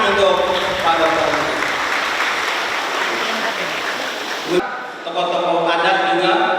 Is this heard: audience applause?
yes